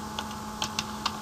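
Several quick clicks of a computer keyboard being typed on, irregularly spaced and fairly faint over a constant low electrical hum, with no voices.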